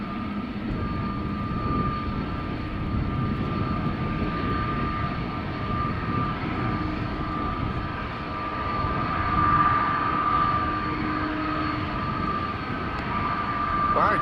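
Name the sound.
Delta Airlines jet taking off at Amsterdam Schiphol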